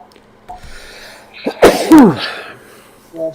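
A single loud sneeze close by, a sharp intake followed by an explosive burst, with quiet room tone and a brief murmur around it.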